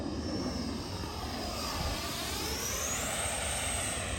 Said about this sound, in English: There's more F-35s in the air. Real world F-35s, because we're right by an Air Force base.